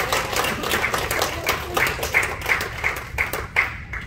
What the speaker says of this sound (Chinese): 我们给他鼓励的掌声。